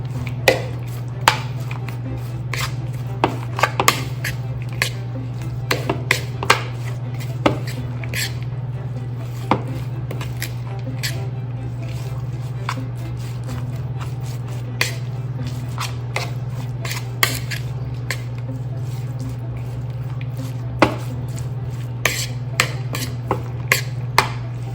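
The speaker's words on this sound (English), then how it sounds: "Mix that out first and see if I like the consistency." A spoon stirs mayonnaise into coleslaw in a bowl, giving scattered wet squishes and light clicks against the bowl over a steady low hum, with no talk.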